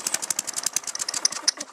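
Tecumseh lawn mower engine, started on its primer bulb with no choke, runs briefly in a fast, even train of sputtering pulses. It sounds close and fairly loud, with no talk over it.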